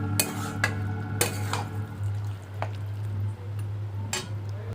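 Meat being browned and stirred in a pan on a home stove, with a few sharp clinks of a utensil against the pan over a steady low hum and quiet sizzle.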